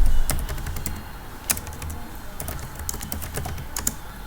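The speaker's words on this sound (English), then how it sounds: "Let me type it over here" Typing on a computer keyboard, a close run of irregular clicking keystrokes with a few louder taps, alone without any voice.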